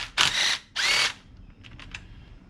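A power tool drives valve cover bolts on a 2009 BMW 328i, two short loud whirring bursts close by, followed by a few faint clicks.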